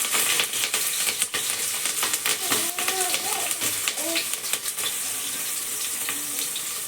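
Mustard seeds crackling and green chillies frying in hot oil for vegetable khichdi, quiet sizzling with scattered sharp pops and a few soft clinks. A voice speaks over it.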